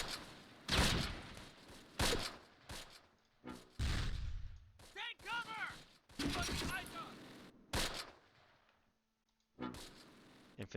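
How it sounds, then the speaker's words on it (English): Cannon and gunfire in the WWII tactical video game Close Combat, set in a 1944 battle at Le Vieux Bourg, with loud, repeated bursts and booming shots that break off into short gaps of near silence. "I hear cannon fire."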